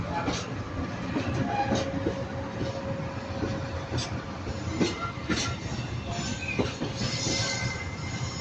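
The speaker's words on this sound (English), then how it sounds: "So it's a freight convoy." A freight train rolls through Manchester Piccadilly station, a steady loud rumble of wagons with rhythmic wheel clatter and occasional squeals across the whole stretch, no voices.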